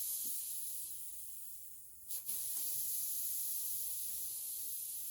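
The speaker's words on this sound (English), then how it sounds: "then let the air out of the valve" Air hissing out of the valve of a 26-inch bicycle inner tube, a steady close hiss that stops briefly near the middle, then resumes and carries on evenly to the end.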